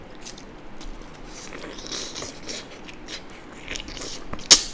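River shrimp dipped in sauce are bitten and chewed up close, with soft crunchy crackles building to a sharp crunch near the end.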